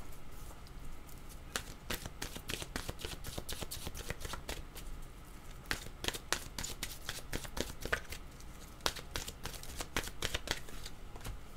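Oracle cards being shuffled by hand, a run of crisp riffling flutters and soft slaps repeating irregularly for several seconds, close and fairly quiet, with no talking.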